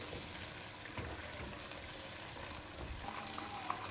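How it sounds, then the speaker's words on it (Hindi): Chicken and onions frying together in a pan, a soft, continuous sizzle with faint occasional stirring, quiet and close. "साथ ही चिकन के प्याजों को और फ्राई कर लेंगे।"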